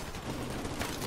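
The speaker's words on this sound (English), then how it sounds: "look at all that gunfire" Gunfire in the Call of Duty: Modern Warfare Remastered campaign mission War Pig: a dense, continuous wash of distant battlefield shooting, rapid overlapping shots blurring into one steady rumble at moderate level with no clear gaps.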